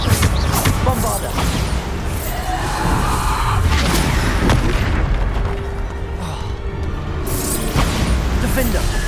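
Bombarda explosion spell in Hogwarts Legacy, loud booming blasts and bursts stacked over dense combat noise, with several sharp impacts in quick succession and voices in between.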